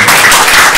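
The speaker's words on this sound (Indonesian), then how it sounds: "Mari kita beri tepuk tangan dulu buat" An audience at a media independence debate claps in a brief, dense, loud burst of applause with no pauses.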